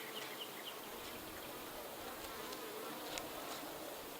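Honey bees buzz steadily around an open hive during a frame inspection, a soft continuous hum with no talk over it.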